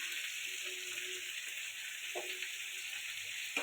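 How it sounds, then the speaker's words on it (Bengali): Potatoes and pointed gourd frying in hot oil in a pan, a steady soft sizzle heard close up and alone, with a faint stir or clink partway through. "এবার আলু পটলটা এই তেলে ভেজে নেব একসাথে।"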